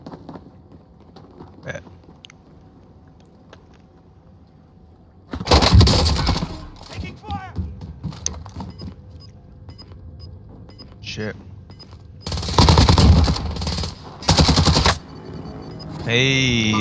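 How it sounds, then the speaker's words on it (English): Bursts of automatic gunfire in a video game shooter, loud and near, come in rapid sustained volleys with quieter gaps between them, while faint game sounds run underneath. "He's shooting at me."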